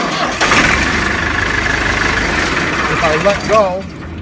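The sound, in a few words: Salsco wood chipper engine starting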